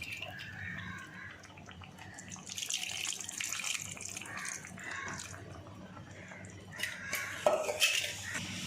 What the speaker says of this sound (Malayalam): കുറച്ച് പുളി പിഴിഞ്ഞ വെള്ളം ചേർത്ത് കൊടുക്കാം.